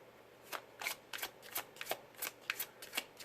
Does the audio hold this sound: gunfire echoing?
no